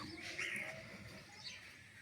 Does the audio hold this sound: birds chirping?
yes